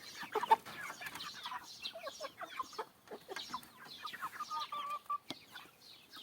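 Three-month-old Master Grey chickens peck at grass with soft scattered clucks and small rustling pecks, quiet and close, a continuous busy murmur of the flock with no talking.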